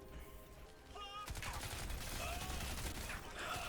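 Typhoon gun firing rapidly in Crysis 3 Remastered, a dense mechanical rattle of quick shots building from quiet clicks to a steady moderate stream, with a louder hit at the very end.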